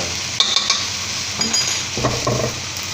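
Lotus stems stir-fried with dried shrimp and garlic in a pan: a constant close sizzle with bursts of scraping and stirring, plus a few light clinks of a utensil against the pan, with no speech.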